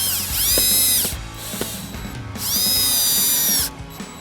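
A power driver fastens a pergola bracket, whirring in two sustained bursts with a short gap between, close and loud, with light mechanical clicks around the runs.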